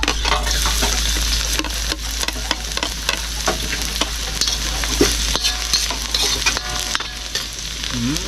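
Onion and garlic frying in a pan, a loud steady close sizzle broken by frequent clicks and scrapes of a utensil stirring, with no talking.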